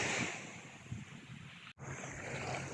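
Ocean waves at sea after a storm, a soft steady wash of surf mixed with wind buffeting the microphone, faint and continuous with one brief dropout.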